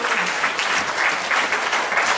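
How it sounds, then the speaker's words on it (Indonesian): Enthusiastic applause from a church congregation at a Sunday morning service, dense continuous clapping filling the whole moment at a strong, even level. "Berikan tepuk tangan yang meriah."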